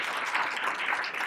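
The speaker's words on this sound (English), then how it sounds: "Let's give her a round of applause for joining us today." An audience gives a short burst of steady applause for a guest at an academic gathering. The clapping is brief and even, with no voices over it.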